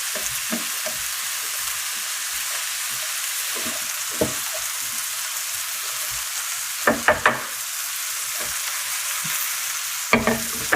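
Honey-coated chunky carrots sizzle steadily in a skillet, a constant frying hiss broken by soft scraping stirs and a few louder clattering tosses of the pan.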